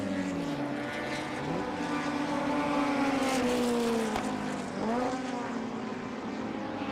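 Lotus 20 Formula Junior race cars with 1-litre or 1100cc engines scream past at a historic race meeting in London, with engine pitch rising and dropping as several cars pass loudly and close, no talk.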